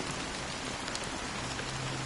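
Steady rainfall pours down in a Honkai Star Rail game scene, an even, continuous hiss of drops striking surfaces that holds at one level throughout with no voices.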